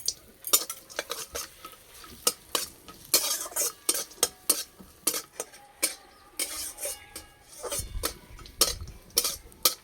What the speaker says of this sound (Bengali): এখানে নিয়েছি কোচানো কাজু বাদাম, আমন্ড আর কিশমিশ। এবার ভেজে নেব।